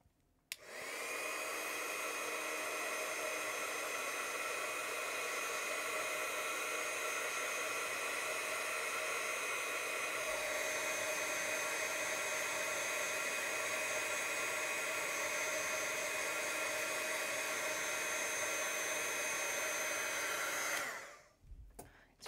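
A hair dryer blows on a freshly painted watercolor of pomegranates and melon flowers, a loud steady whir running without a break for about twenty seconds before switching off.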